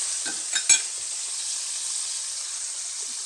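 Bacon frying in a pan gives a steady, soft hiss of sizzling, with a couple of brief clicks or taps near the start.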